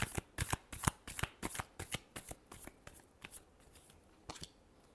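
Tarot cards are shuffled by hand in a quick series of crisp riffling bursts, close and clear, slowing and thinning toward the end with no voices.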